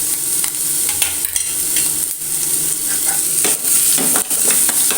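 Ginger pieces and green chilies fry in hot coconut oil, a steady dense sizzle running the whole time, with brief stirring scrapes and pops along the way.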